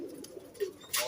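Pigeons coo faintly in short, soft murmurs, two or three low calls spaced across a brief moment, followed by a sudden noisy rustle at the end.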